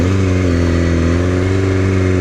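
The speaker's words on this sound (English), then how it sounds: "I can launch this bike like nobody's business" A motorcycle engine drones loud and close, a steady, even mechanical hum that holds level for the whole short moment, with no voices over it.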